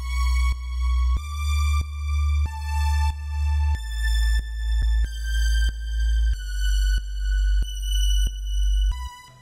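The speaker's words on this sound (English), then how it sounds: "I used the same 808 that I used previously from the Ronin Silent bank" A deep 808 bass from the Ronin Silent bank in a pop production, playing a steady sequence of sustained, booming notes with a brighter tonal layer on top, pulsing in an even rhythm, loud and alone.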